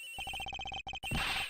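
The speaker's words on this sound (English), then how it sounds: "The ringing is coming from somewhere around here." A cell phone ringtone inside a plane cabin, a rapid train of bright electronic beeps in quick bursts with brief gaps, then a louder burst of noise at the end.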